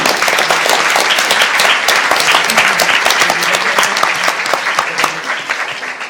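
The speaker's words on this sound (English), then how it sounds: "So can we have a round of applause for all of our participants?" A university debate audience applauds its participants, dense sustained clapping from a crowd at a referendum debate, loud and continuous before tapering slightly at the end.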